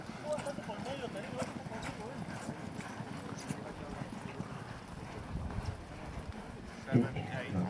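Polo horses' hooves thud in a rapid, uneven clip-clop across the grass field during a match, moderately distant under continuous commentary, with a sharper knock near the end.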